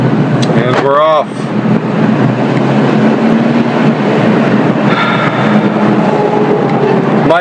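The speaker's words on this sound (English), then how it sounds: "Might be a little loud in here because you're going to hear all the noise, the wind noise." Inside a moving mail delivery truck, a loud, steady roar of road and wind noise fills the cab throughout, with a brief squeaky, voice-like warble near the start.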